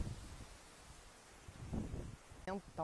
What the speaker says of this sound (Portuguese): Tá uma ventania, o tempo tá fechando.